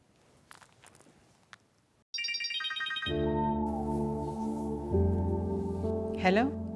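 A phone ringtone plays a bright, repeating electronic melody in an indoor domestic scene from a Pakistani TV drama. It starts abruptly and rings steadily and loudly for several seconds.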